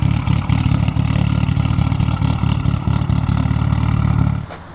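A Mitsubishi Evolution 5 rally car fitted with a Bitzer straight-through exhaust burbles loudly at close range with uneven pulsing revs, then cuts off abruptly near the end.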